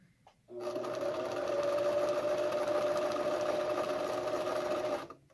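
A sewing machine stitches a cloth face mask in one steady, even run of a few seconds, with a humming motor and a rapid needle rattle that starts and stops abruptly.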